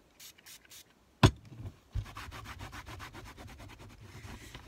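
Rubbing paint off a drawn card, quiet rapid rhythmic scrubbing strokes close up after a few faint taps and a sharp knock, no talking.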